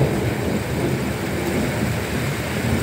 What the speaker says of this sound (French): c'était l'orage dans le potager